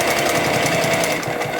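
A sewing machine stitches a seam in a knit dress with a fast, steady mechanical whir and rapid needle chatter, loud and close throughout the short run.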